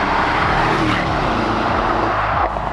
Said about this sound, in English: comes powered by AMG's familiar 4-litre twin-turbo V8 petrol engine in 476 horsepower and 700 Nm tune